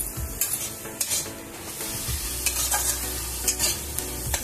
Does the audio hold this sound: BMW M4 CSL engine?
no